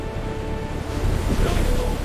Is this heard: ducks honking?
no